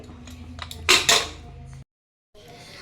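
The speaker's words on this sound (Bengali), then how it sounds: "আমি গ্যাসে কড়া বসিয়ে দিয়েছি" A metal kadai is set down on a gas stove: a sharp, loud clank with a short rattle of metal near the start, a little light kitchen clatter around it, then a brief silence.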